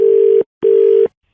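A telephone dial tone after a call has been cut off, heard as two steady beeps separated by a short gap, loud and close with no other sound.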